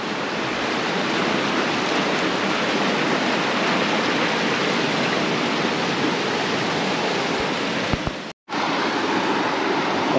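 Water pouring down rocky canyon walls as a waterfall, a loud, continuous broadband rush that holds steady and then drops out for a moment near the end.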